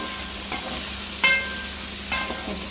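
Fresh ginger-garlic paste sautéing in hot oil for rava kichadi, a steady low sizzle broken by three brief scraping stirs spaced about a second apart.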